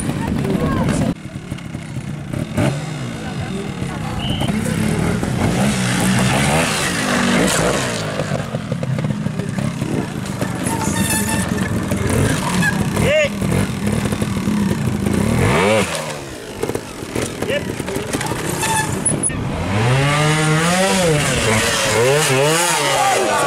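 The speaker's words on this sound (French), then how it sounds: "Petite moto de 300 cm." Small 300 cc trial motorcycle at a French trial championship event in Quinssaines, its engine revving hard in repeated rising and falling bursts, loud and near, while a commentator talks over it.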